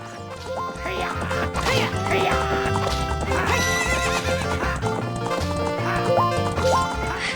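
A horse gallops with steady clip-clop hoofbeats and neighs loudly, set over busy game music and effects in The Legend of Zelda: Ocarina of Time.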